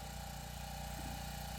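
A 1948 Ford 8N tractor engine idles steadily, a low, even rumble with a faint rhythmic pulse that holds constant throughout, heard alone with no voices.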